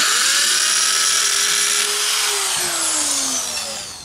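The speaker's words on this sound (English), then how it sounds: "when we're doing it this way, we drill in." A power drill whines steadily at close range, its pitch sagging slightly as it bites into a wall for stone veneer installation, then easing off near the end.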